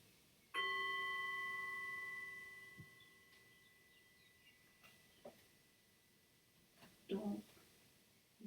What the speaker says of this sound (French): je sonne le gong